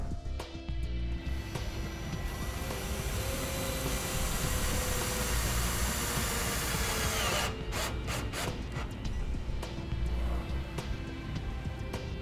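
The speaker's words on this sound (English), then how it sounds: "take a self-tapping screw, go through the ring terminal, and secure the white wire to the trailer's frame" A power drill drives a self-tapping screw through a wire's ring terminal into a trailer's metal frame, a close steady whirring grind with brief stuttering bursts toward the end.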